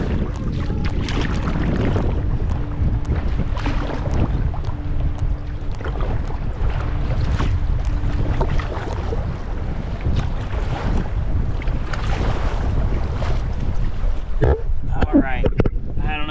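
Canoe on the Missouri River riding whitecap waves and two-foot swells: steady water wash and slapping against the hull under heavy wind buffeting the microphone, loud and continuous throughout.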